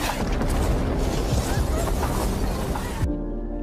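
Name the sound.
explosion in a film scene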